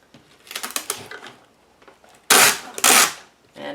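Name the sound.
packing tape pulled off the roll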